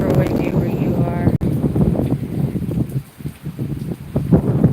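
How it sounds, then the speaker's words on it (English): Strong wind during Hurricane Helene in Lee County, a loud, continuous rushing roar buffeting the microphone with gusty surges, a person talking underneath. "Super windy where you are."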